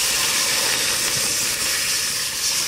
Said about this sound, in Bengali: মাছ সব ভাজা হয়ে গেছে, এবার কড়াইতে জল দিয়ে দেবো